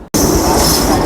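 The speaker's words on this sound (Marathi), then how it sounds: "आता गेली ट्रेन." A train rushing past close by with a loud sudden onset after a brief silence, then a dense steady roar of wheels and carriages that fills the moment.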